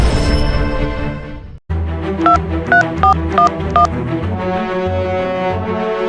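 A telephone rings in a hospital scene, a repeating electronic ringtone of short bright tonal bursts over a loud sustained music bed, with no talking.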